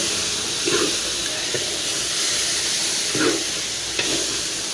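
Vegetables sizzle and fry in a hot spice masala, with a steady loud hiss and a few soft scraping stirs, close up with no voices.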